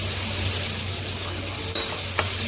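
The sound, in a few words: stirring tomatoes and onion paste into bitter gourd curry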